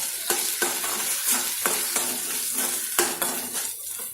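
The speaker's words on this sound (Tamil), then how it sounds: "இந்த மசாலாவை இதில் போட்டு இதையும் கொஞ்ச நேரம் வதக்கணும்" Ground masala for pepper kulambu sizzles in hot oil as a spoon scrapes and stirs it around the pan, steady frying hiss punctuated by regular sharp metallic strokes, close and loud with no voices.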